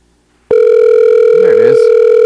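A telephone line tone sounds during an outgoing call, a loud steady electronic tone that starts abruptly after half a second of near silence and holds to the end, with a faint voice briefly underneath.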